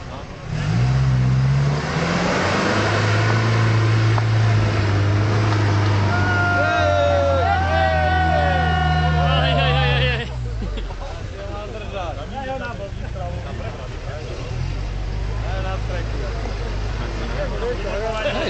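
An off-road vehicle's engine revs and strains loudly for about ten seconds, then drops to a lower idle, with people calling out and talking throughout.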